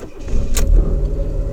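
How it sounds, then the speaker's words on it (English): A Fiat Cinquecento engine starts up: a sharp click, then a low, steady rumble from close by with no talking. "I'll go start the car up"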